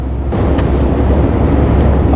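A 2019 MAN TGS 51.500 concrete pump truck's diesel engine drones at about 1300 RPM while driving at 80 km/h, a loud, steady low rumble with wind and road noise.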